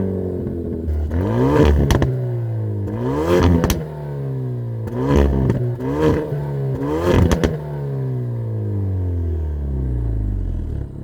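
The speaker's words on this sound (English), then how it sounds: "this has to be one of the best sounding 4-cylinder turbos you can buy today." Turbocharged four-cylinder engine of a 2020 Hyundai Veloster N revving repeatedly, with several rising and falling sweeps in a steady rhythm, loud and close, no talk.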